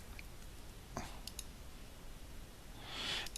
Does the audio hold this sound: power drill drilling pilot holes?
no